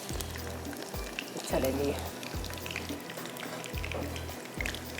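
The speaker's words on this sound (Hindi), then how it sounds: "प्याज फ्राई हो रहा है।" Onions fry in a pan with a steady close sizzle, a low rhythmic hum pulsing underneath, while someone briefly speaks over it.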